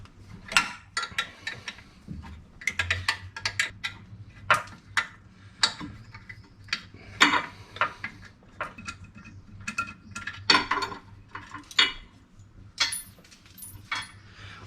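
A 10mm spanner works on car bolts, giving scattered close metallic clinks, ratchety clicks and tool knocks in irregular bursts with quiet gaps and no talking.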